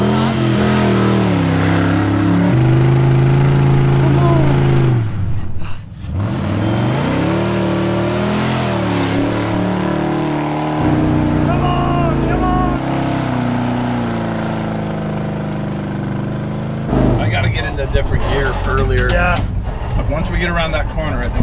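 An off-road vehicle's engine roars at full throttle climbing a steep hill during a difficult recovery, the loud revving rising and falling and briefly cutting out, with people talking over it.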